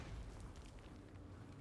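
Cannon fire in the Total War: Warhammer video game, a dwarf army battle, lands as a deep, rumbling boom that fills the short moment with low, heavy blast energy.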